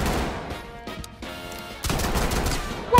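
Rapid bursts of gunfire ring out in a video game, dense automatic volleys with a brief lull in the middle, loud and close with no talking.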